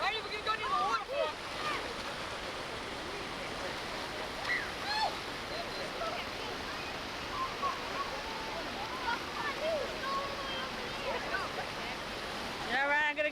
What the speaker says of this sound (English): Now we're riding the rapids.